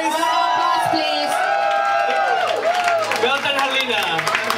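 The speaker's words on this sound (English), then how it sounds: "Applause, please." Audience at a beauty pageant heat in Birmingham clapping and whooping, loud cheering with a voice calling over the applause throughout.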